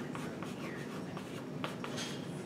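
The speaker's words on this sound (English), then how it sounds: "So we can write this down clearly." Pen or marker writing by hand on paper or a board while a math proof is worked out, with a steady run of scratchy strokes and short scribbles, close and quiet.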